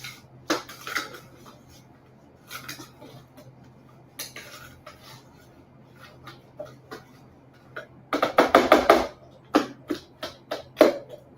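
A spatula scrapes and taps inside a food processor bowl holding cheesecake crust mixture of crushed crackers and butter, giving scattered light scrapes, then a cluster of sharper clattering scrapes near the end, over a low steady hum.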